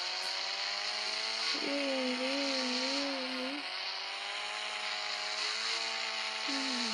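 A toy police monster truck runs with a steady electronic motor whine, accompanied by a warbling siren-like tone that rises and falls in a few bursts, continuous and fairly close, with no talking.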